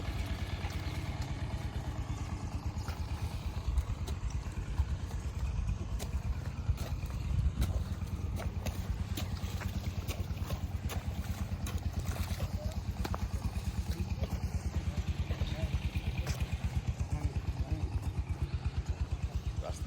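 A motorcycle rides along a village road past rice fields near Madhupur, its engine giving a steady low drone with rattling clatter throughout, while a voice talks over it.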